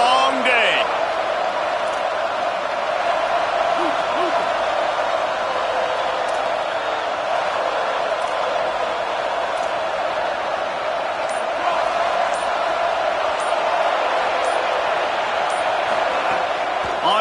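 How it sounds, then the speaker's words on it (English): Loud, dense stadium crowd roaring at a Florida Gators football game, a steady full-throated wall of cheering with a brief burst near the start, heard under a commentator's voice. "This crowd, full throat, splitting the eardrums and letting them know it's going to be a long day."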